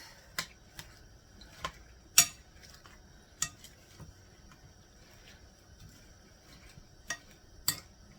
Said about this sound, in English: let's get us a spoon to mix it all together